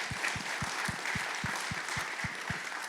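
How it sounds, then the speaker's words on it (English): Applause from an audience at a volunteerism anniversary program, a steady wash of clapping with a regular low thumping beat, moderately distant and sustained for the whole stretch. "They need a round of applause just for that."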